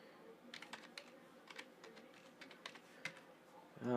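Wi-Fi password being typed on a computer keyboard, a quiet run of light, irregular key clicks at close range, ending in a brief louder tonal sound.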